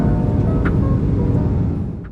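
Steady low cabin drone of a QantasLink airliner climbing after takeoff from Brisbane, a continuous broadband engine and airflow roar that stays level and fades slightly at the end.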